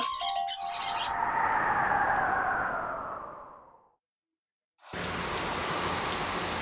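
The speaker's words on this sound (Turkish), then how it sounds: "Yağmur yağdı." Steady rain hiss in a video game fills most of the clip with a few bright chimes at the start, fades into a brief silence, then returns abruptly at full loudness.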